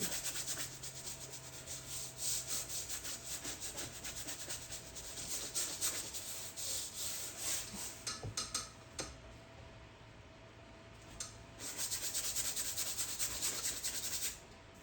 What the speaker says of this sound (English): I will coat the entire canvas. And I'm using a bristle brush which can take the scrubbing.